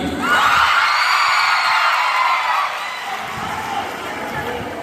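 At a college event, an audience breaks into loud cheering, whoops and shouts mixed with applause, a dense crowd roar that stays strong for several seconds before easing slightly toward the end.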